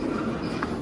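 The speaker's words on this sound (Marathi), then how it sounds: "ट्रेन आलेली आहे." An express train running from Mumbai to Virar pulls into a station, giving a steady, close rumble of rolling rail cars with a brief higher screech partway through and no talk.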